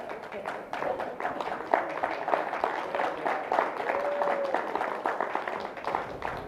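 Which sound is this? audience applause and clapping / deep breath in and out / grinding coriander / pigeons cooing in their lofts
audience applause and clapping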